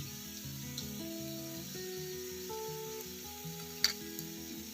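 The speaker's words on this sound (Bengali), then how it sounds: "এবার একটু ভালো করে নাড়িয়ে দিচ্ছি" Spiced potatoes with cumin and kasuri methi frying in a pan while being stirred, a steady close sizzle with a brief sharp scrape of the spoon near the end, no talking.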